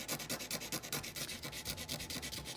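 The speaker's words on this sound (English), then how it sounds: "sandpaper and just sand it smooth, however you want." A waterproof match being sanded on sandpaper, with rapid rhythmic rasping strokes close and continuous for a few seconds, no voices.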